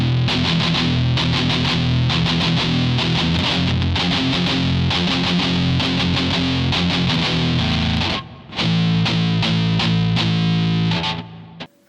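Distorted metal electric guitar played with aggressive palm-muted strings: loud, tight chugging riffs in a fast rhythm, with a short break before the riffing returns.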